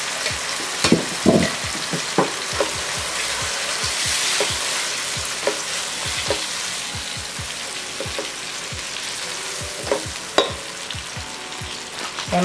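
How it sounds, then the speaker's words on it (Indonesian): Chili, galangal, ginger, lemongrass, spring onion and lime leaves sizzling in hot oil, a loud steady frying hiss with scattered pops and the scrape of stirring. "Nah, minyak sekarang sudah panas. Saya memasukkan cabai."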